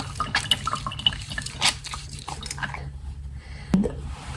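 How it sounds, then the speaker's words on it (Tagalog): Hands being washed under running water at a sink: a steady trickle with wet splashing and dripping, close and clear, ending with a sharp knock near the end. "Hugas muna tayo ng kamay"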